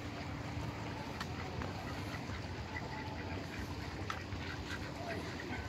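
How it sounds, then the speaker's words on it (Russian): Ducks quack in scattered short calls along the Aegean coast at Agia Marina, moderately distant over a constant wash of wind and water noise. "Вот утки здесь."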